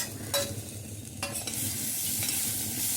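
Tomato, green chilli and other vegetables sauté in a pan over a coconut-shell fire, giving a soft steady sizzle with a few quick scraping stirs, close and fairly quiet, no talking.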